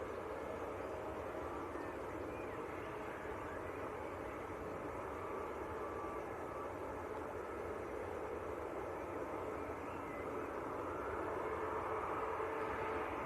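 A Wizz Air airliner at Leeds Bradford Airport, a steady distant jet roar and broadband hiss holding level and swelling slightly toward the end, with no talk.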